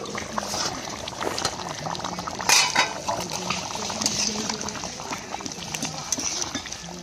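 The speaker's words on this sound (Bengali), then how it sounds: "পরিমাণ মতন জল দিয়ে দেবো" Water is poured into a pot of browned meat curry, splashing and sizzling close by with clinks of a utensil and a sharper burst midway, over a constant kitchen hiss.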